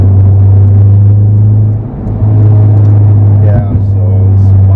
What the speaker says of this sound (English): so it's a bunch of traffic as I drive to work